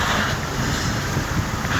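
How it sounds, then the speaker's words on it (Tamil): Heavy rain pours over the hills at Vagamon in Kerala, a dense, steady broadband hiss with gusty wind noise buffeting the microphone, loud and continuous with no voices. "சத்தியமாக இப்போ வந்து செம மழைங்க, செம மழை."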